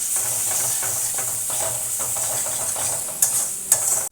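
Spiced rui fish mixture with salt, turmeric and red chilli powder stirred in a pan, a steady scraping and sizzling hiss close up, with two sharper clinks near the end.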